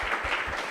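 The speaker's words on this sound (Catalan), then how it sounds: "Aplaudim." A studio audience applauds in a brief, fairly loud burst of clapping that fills the whole moment.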